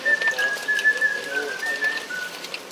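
A person whistles a wavering tune at a moderate distance over soft, patchy background noise, with short pauses between phrases.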